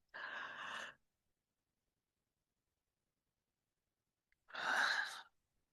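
A person yawns twice, each a long breathy exhale of about a second, close and fairly soft, separated by several seconds of silence.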